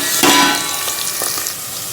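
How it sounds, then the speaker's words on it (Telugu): Onions frying in hot oil for a mutton curry, a loud close sizzle that flares at the start and then settles into a steady crackling hiss, with faint clinks of utensils. "ముందుగా ఆయిల్ వేసుకొని ఉల్లిగడ్డలు వేసుకొని రెడ్గా వేయించుకోవాలండి"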